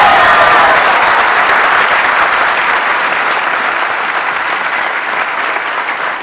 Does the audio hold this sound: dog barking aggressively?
no